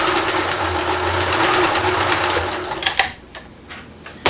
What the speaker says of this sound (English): I'm just going to do a quick little satin stitch